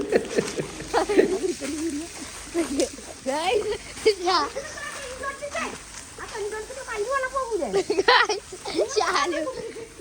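Water from a motor-pumped hose splashes and sloshes in irregular bursts while children play and bathe in it. Voices and laughter run over the splashing.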